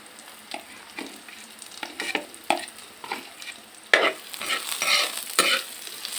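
Bombay onion and ginger frying in a little oil, crackling and sizzling with repeated sharp scraping stirs that grow louder and busier toward the end, no voices.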